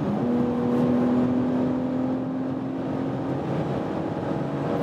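A 510 hp 2020 BMW X4 M Competition engine accelerates hard, a loud, steady roar with a rising tonal drone heard from inside the car, with no talking over it.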